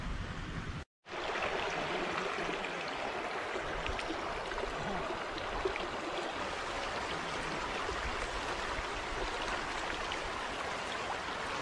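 Rushing river water at the Indo-Nepal border near Thori, a steady broadband roar of flowing current with no let-up, interrupted only by a momentary dropout near the start.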